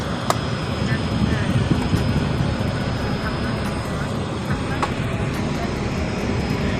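Jet engines of a Jordanian airliner at an airport in Qatar, a steady broadband roar with a constant high whine, running continuously under a voice talking nearby.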